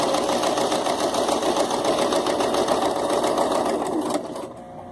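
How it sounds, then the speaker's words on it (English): A sewing machine runs steadily and loudly with a fast, even mechanical whir, then slows and quiets near the end. "You really probably shouldn't be able to hear it too good over all this sewing machine noise."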